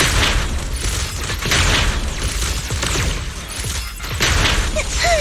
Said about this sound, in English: Unleashing artillery barrage